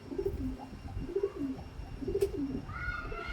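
A pigeon coos in repeated soft phrases, three low throaty rounds close by, with faint background noise.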